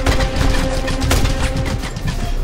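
Automated sentry guns firing in the video game Just Cause 2, a dense continuous spray of rapid shots with booming low end, loud and close throughout.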